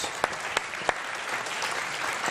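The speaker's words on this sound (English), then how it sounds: "Give them a big applause" An audience at a startup pitch event claps in a steady, dense burst of applause, with a few sharper individual claps standing out near the start, fairly close and without talking.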